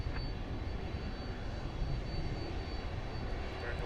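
A Southwest Airlines jet at DFW airport gives off a broad, continuous engine roar, moderately loud and steady, with no voices.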